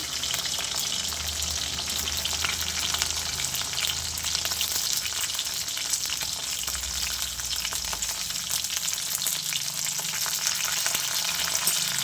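Dried red chillies frying in hot oil in a pan, with a loud, dense and continuous crackling sizzle and no other sounds.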